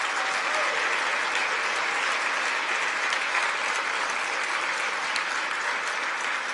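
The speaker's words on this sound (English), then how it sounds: "Let's have one final, very hearty round of applause for the group of remarkable women that have been honored at this induction ceremony" A big hall audience at a women's hall of fame induction ceremony gives the honorees a long, steady, even round of applause with many hands clapping, without a break.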